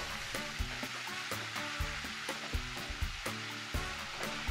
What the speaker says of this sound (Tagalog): saute the onion hanggang lumambot na ito